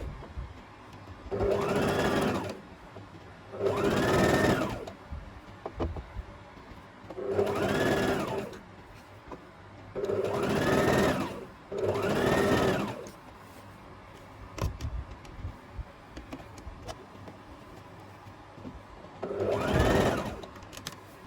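Sewing machine runs along a skirt seam in six distinct bursts of a few seconds each, loud and close, separated by quiet pauses where the fabric is pivoted around the needle.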